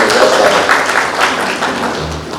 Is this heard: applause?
yes